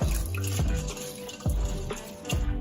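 Sea moss being shaken and rinsed in water inside a container: rhythmic sloshing and splashing in roughly regular pulses, close and moderately loud, with no talk.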